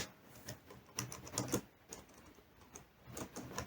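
Keys clatter on a computer keyboard while entering placeholder text in an HTML form, producing quiet, irregular clicks in short bursts with no talking.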